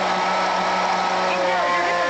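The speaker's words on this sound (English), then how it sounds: "It's a blender." A kitchen blender runs loud and steady with a dense motor whine and a constant, unbroken roar, while voices talk over it.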